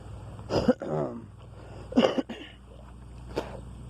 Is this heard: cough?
yes